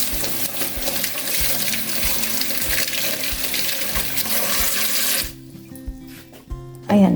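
Vegetables for pinakbet rinsed under a running kitchen tap, a steady close rush of water that stops near the end, followed by a short clatter.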